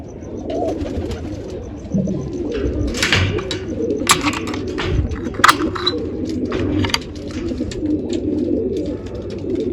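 Pigeons coo in a steady, low rolling murmur that runs throughout, with occasional sharper clicks and knocks from the birds or their enclosure, moderately close, with no talking.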